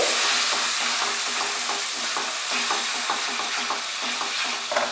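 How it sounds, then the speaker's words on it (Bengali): Thick masala spice paste fries and is stirred in a pan over lowered, medium heat for a vegetarian milk-and-pointed-gourd curry, a dense steady sizzle broken by regular scraping strokes of the spoon, close and loud with no voices. "মশলাটাকে কষিয়ে নিচ্ছি।"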